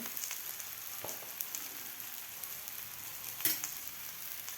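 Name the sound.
soybean-nachni thalipeeth sizzling on a hot tawa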